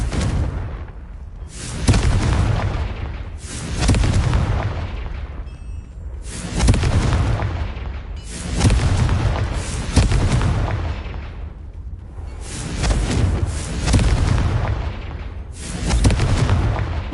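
Confringo blasting spell explosions in the Hogwarts Legacy video game, a rapid series of about eight loud booming blasts, each decaying before the next arrives, with no talk.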